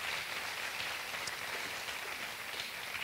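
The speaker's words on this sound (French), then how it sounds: "on peut les applaudir" A church congregation applauds in a steady, dense wash of clapping that holds at an even level throughout, with no voices over it.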